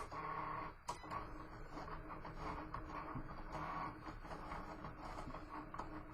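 A Cricut Explorer cutting machine slices Close to My Heart cardstock on a loaded mat, giving a steady mechanical whirring drone with shifting motor tones and small clicks, close and continuous throughout.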